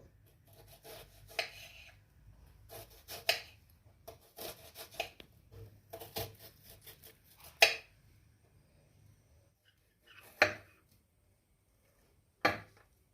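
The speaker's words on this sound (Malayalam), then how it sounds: "ഇനി ഇതുപോലെ റൗണ്ടിൽ ഒന്ന് കട്ട് ചെയ്യുക ഇനി ഇത് തിരിച്ചു വെച്ച് ചെറുതായിട്ട് കട്ട് ചെയ്യണം" An onion being cut into small pieces with a knife, giving irregular scraping and rubbing strokes with a few sharp, louder knocks near the end, close by with no talking.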